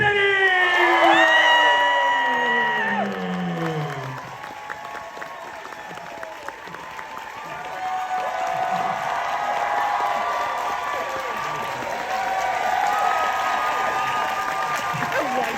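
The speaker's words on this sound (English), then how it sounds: "let's keep that applause going." A fan expo crowd applauds and cheers for a Scream cast Q&A, with loud whoops and shouts sliding over sustained clapping that dips briefly before swelling again.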